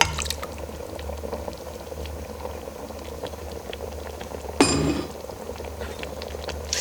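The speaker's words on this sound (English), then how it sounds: "And we're going to pour that over the top." A quart of tomatoes is poured into an Instant Pot, giving a soft, steady liquid patter and bubbling that runs throughout, with a brief louder splash or clatter near the end.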